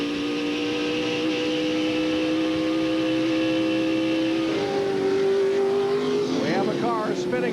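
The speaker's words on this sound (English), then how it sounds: "We have a car spinning off the course right in front of you, VP." NASCAR Featherlite Southwest Tour race cars roar around Sears Point in 1995, a steady loud engine drone with shifting pitch as cars pass, under continuous race commentary.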